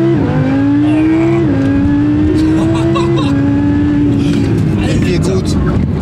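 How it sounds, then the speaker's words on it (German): An Audi R8 V10 pulls away hard, its loud engine note climbing steadily through several gear changes up close from inside the car, while a voice speaks over it. "wenn man jetzt hier losbeschleunigt"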